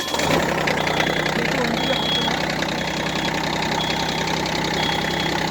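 Rice transplanter engine turning over and then settling into a loud, steady mechanical idle with a knocking rattle, close by, continuing without a break.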